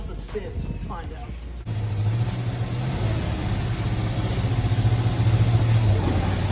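An old van stuck in mud for 20 years starts after some brief talking, and its engine settles into a steady, close idle that keeps running to the end, rising slightly.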